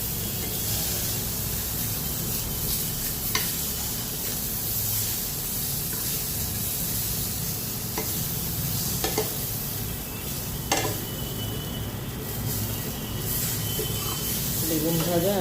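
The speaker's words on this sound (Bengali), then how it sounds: "বেগুন ভেজে নিচ্ছি।" Eggplant slices fry in a pan with a steady loud sizzle and hiss, broken by occasional scraping and stirring knocks close by.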